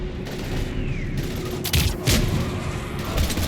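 Gunfire in the video game Mass Effect 3 during a heavy firefight, a few loud bursts of shots over a dense, constant roar of battle noise, with no talk.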